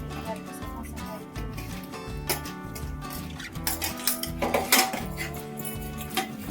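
Steel pots, dishes and cutlery being washed in a home kitchen: continuous close clattering and clinking of metal utensils, with sharper bangs and scraping bursts toward the end.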